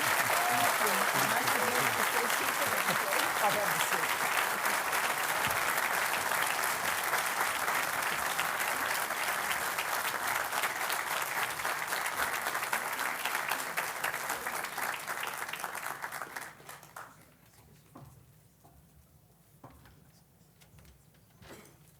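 An annual meeting audience gives a long, dense round of applause that holds steady for about sixteen seconds, then drops to a few scattered claps and quiet room noise.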